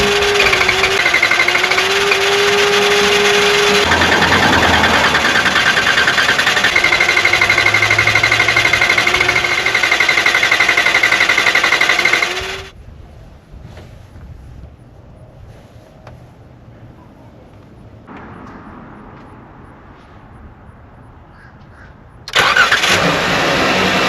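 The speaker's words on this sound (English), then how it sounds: "hold the throttle all the way down" A 2008-2020 Dodge Grand Caravan engine roars loudly and steadily with the throttle held all the way down for about twelve seconds, then cuts back to a quiet idle before surging again at the end.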